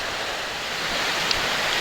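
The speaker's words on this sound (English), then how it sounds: "all we get is just a waterfall" A waterfall in the Scottish Highlands at Glencoe gives off a steady broadband rush of falling water, constant and fairly loud with no voices.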